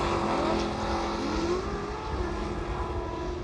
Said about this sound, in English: And this Toyota sounds like no other truck.